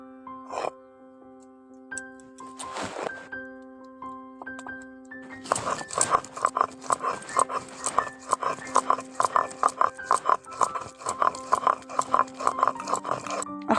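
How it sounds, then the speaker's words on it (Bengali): Peeled garlic is ground on a grinding stone, a quick run of rhythmic knocks and scrapes that starts partway through and repeats steadily over a sustained tonal background. "রসুনের খোসাগুলো ছাড়িয়ে নিয়েছি এবার আমি এগুলোকে বেটে নিচ্ছি"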